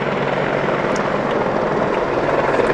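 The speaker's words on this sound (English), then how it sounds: "the AH-64E Apache Guardian will be fully integrated with the new Royal Navy Queen Elizabeth class aircraft carriers" An AH-64E Apache Guardian attack helicopter flies at an air display, its rotor and engine roar loud and continuous throughout with a faint rhythmic blade chop.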